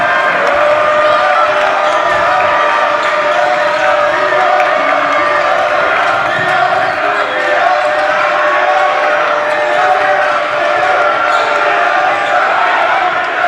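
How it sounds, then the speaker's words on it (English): A college basketball crowd roars loudly and continuously during a Wheaton versus North Central game, a dense, sustained wall of cheering that does not let up. "this crowd is going crazy"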